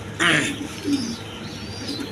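A male Chuachandan pigeon gives a low, soft coo close by, one short rolling call that fades into quiet room noise, with faint voices nearby.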